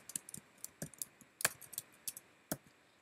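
Clicks and keystrokes from a computer mouse and keyboard while building a Google Sites portfolio page, scattered quiet taps in short irregular bursts, close and alone with no talk.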